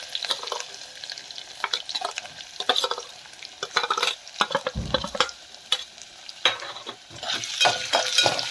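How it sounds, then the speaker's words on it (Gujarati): Green chili, curry leaves and potato pieces sizzle and fry in hot oil for tempering, with steady stirring, scraping and crackling throughout and no voices. "મીઠો લીમડો અને બટેકા એનો વઘાર કરી લઈએ"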